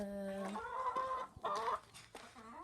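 Chickens cluck and call in a backyard coop, a steady layered chorus of hens with one louder drawn-out call, close by and continuous, no talking.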